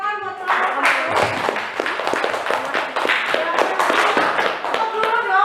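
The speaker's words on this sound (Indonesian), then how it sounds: "berikan tepuk tangan buat kelompok 1" Classroom applause for a presenting student group, a dense burst of many hands clapping continuously with voices mixed in.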